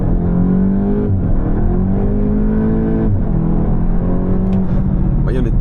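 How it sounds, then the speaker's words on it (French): A 300 hp VW Golf 8 GTI Clubsport accelerates hard from low speed toward 100 km/h on the road, its engine note rising loudly through the gears with brief drops at the shifts, heard from inside the car. "je me permets de pouvoir faire un 0 à 100 pour vous montrer un petit peu et la sonorité et la puissance du véhicule"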